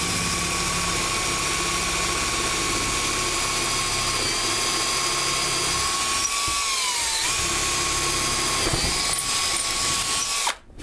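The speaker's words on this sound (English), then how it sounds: "Drill a pilot hole first." Power drill boring a pilot hole while building a multi-color T-shirt printer, a steady high whine running continuously for about ten seconds with slight pitch dips near the end, close and loud, no talking.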